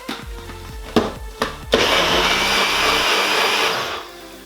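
A blender loudly whirs through protein pancake batter, cutting in after a few short knocks and sharp pulses, then running steadily for about two seconds before the motor winds down.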